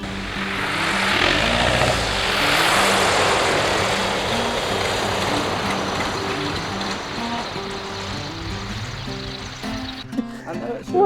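A Kitfox or Citabria light aircraft lands on a backcountry strip, its propeller engine droning steadily and slowly fading, with a few clunks near the end.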